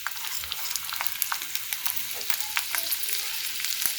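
Curry leaves and sesame seeds sizzle in hot oil for a fasting idli recipe, a dense, steady crackle peppered with sharp pops and spits, close and continuous without any voices.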